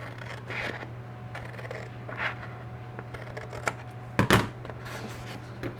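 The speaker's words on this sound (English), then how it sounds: "And all I'm going to do is use my scissors to do that." Scissors snip through paper while trimming a slimline envelope, a few scattered crisp cuts with one louder close snip near the end over a steady low hum.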